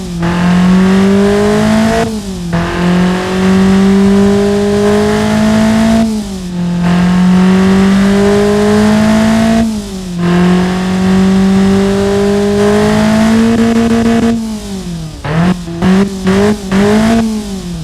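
Simulated Daewoo S-TEC II 1.0L engine in the Automation game, revved hard again and again, its loud tone climbing steadily and then dropping sharply between pulls, with a quick flurry of short blips at the end and no talking.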